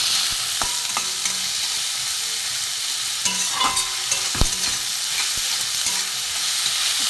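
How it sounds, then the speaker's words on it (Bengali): Tomato and spices fry in a little oil for ghugni, a close, steady sizzle broken by a spoon scraping and knocking against the pan. "একটু ভাজা ভাজা হোক। নুন দেব, টমেটোটা যত নরম হয়ে যায়।"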